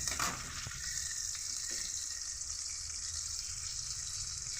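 A steady oily sizzle hisses from a pan of fish and potatoes frying close by, with a couple of faint knocks of a utensil early on.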